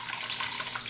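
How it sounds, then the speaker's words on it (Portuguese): White alcohol vinegar poured into a Speed Queen TR7 top-load washer during the first rinse, a steady close liquid splash and hiss that runs for under a second with no talking. "vou despejar aqui 100 ml do vinagre branco de álcool que eu sempre uso no primeiro enxágue das roupas"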